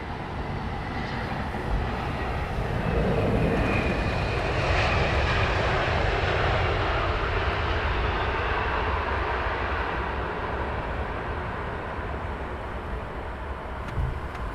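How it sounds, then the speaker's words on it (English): Aircraft arriving on runway 27R at Heathrow Airport, its jet engines a broad roar that swells slightly mid-pass and then holds steady, moderately distant, with no talking. "Next inbound aircraft."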